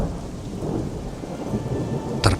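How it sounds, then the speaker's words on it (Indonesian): Heavy tropical downpour with thunder on a congested road in Indonesia, a dense, steady hiss of rain with low rumbling, ending in a sudden sharp crack near the close. "hujan pun turun dengan lebat"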